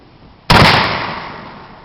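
A single loud, close muzzleloader rifle shot with a sharp blast, then a long decaying roll of echo lasting over a second, no voices.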